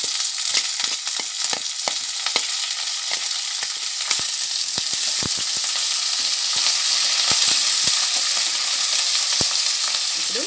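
Onion pieces and curry leaves frying in hot oil, a loud, close, continuous sizzle with frequent sharp crackles and pops scattered throughout.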